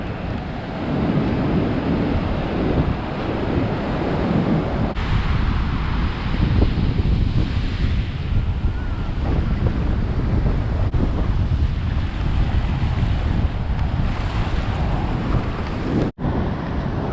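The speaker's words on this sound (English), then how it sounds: "The waves are pretty rough." Rough ocean surf pounds steadily at Surfers Paradise beach on the Gold Coast, a loud continuous roar of breaking waves mixed with strong wind buffeting the microphone, no voices.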